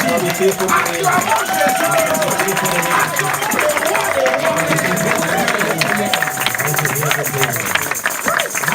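A church congregation cheering and acclaiming Jesus during a service, a dense crowd of clapping, shouting voices and hubbub filling the space continuously, loud and close, with a voice talking over the din.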